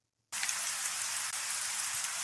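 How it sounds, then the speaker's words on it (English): Rain begins abruptly after a moment of silence, then falls as a steady, dense hiss on a surface, without pauses. "It's rainy today."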